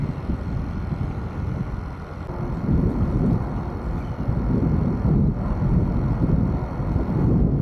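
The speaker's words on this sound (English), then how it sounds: "the wind grabs your line" Steady wind roars across a fishing pier and buffets the microphone, a loud, continuous low rumble with gusts rising and falling and no talking.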